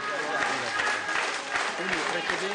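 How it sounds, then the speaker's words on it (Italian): Applause fills an Italian courtroom after a verdict is read, a dense sustained clapping from a crowd with voices mixed in. "ieri la lettura della sentenza è stata accolta da un applauso"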